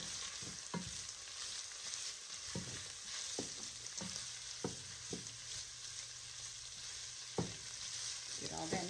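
Italian sausage and vegetables frying in a pot with Italian seasoning for tortellini soup: a steady close sizzle with intermittent scraping knocks of a spoon stirring, no talk.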